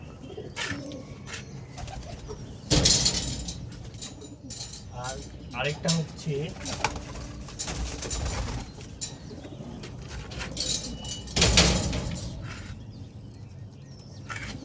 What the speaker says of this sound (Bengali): কালদম সুয়েলের কবুতর এটা, খুব ভালো কবুতর।